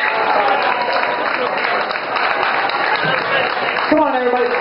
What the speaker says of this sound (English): Let's give a big round of applause for Colleen.